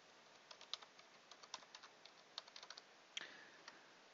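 An IP address being typed on a computer keyboard, a quick irregular run of light, close key clicks heard alone in a quiet room.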